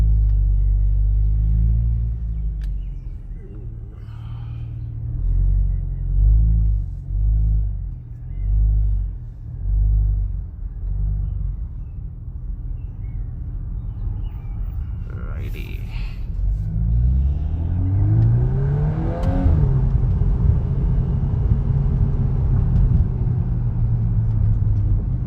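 A 2024 VW Golf 8 R Performance Pack with a DSG gearbox making a U-turn on an inclined road, its engine a low rumble that rises in pitch as it accelerates away, with someone talking over it from inside the car.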